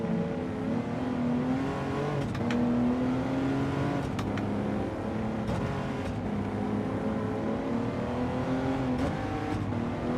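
Sustained engine drone of an AMG race car in Gran Turismo 7, holding steady with gear shifts and slight pitch rises, loud and continuous with no talking.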